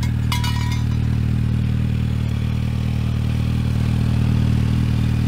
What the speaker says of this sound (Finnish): Vapautimme pyörän äänet Akrapovikin vaimentajasta irrottamalla kuvauksiin noise killerit.